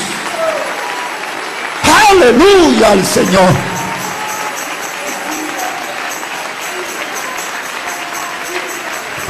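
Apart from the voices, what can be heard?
congregation applauding in church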